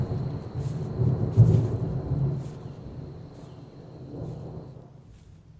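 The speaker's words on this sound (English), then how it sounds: "the wind picked up, and storm clouds slowly gathered on the horizon" Thunder rumbles low and steady through a building storm, with gusting wind and a soft wash of rain, the rumble swelling near the start before easing into a quieter roll.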